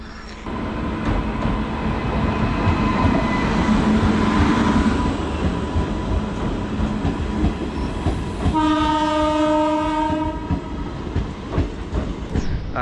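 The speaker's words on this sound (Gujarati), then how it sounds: "ફાઇનલી ટ્રેન આવી ગઈ" A train rolls into a railway station with a loud, continuous rumble and rattle of wagons, then a long, strong horn blast sounds partway through over the clatter, close by.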